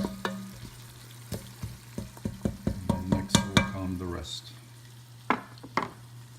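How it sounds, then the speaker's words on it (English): Herbs being stirred into a simmering pasta sauce in a pan, with a run of close, rhythmic spoon scrapes and clacks over a low sizzle, thinning out to a few scattered stirs near the end. "So let's get those in there, mix them around for a few minutes."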